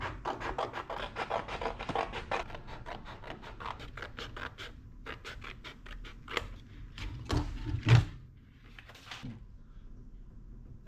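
Poster board being cut along a marked line for a template on a custom core support and radiator cover panel, a steady rasping, scraping run of short strokes up close, ending in a couple of louder cuts.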